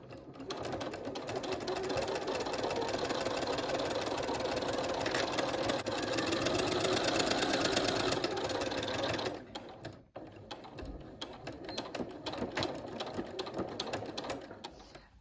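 A sewing machine runs fast and steady through quilting cotton rag quilt blocks for about nine seconds, stops briefly, then starts again at a similar close, humming, rapid pace.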